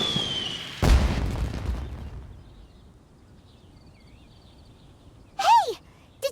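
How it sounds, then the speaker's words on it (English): A single sharp boom from a video game explosion bursts out and rumbles away, followed by quieter sounds and a brief rising and falling electronic whistle near the end. "Did you hear that explosion? Maybe it was fireworks."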